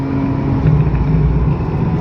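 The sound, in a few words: oncoming cars passing on hillclimb road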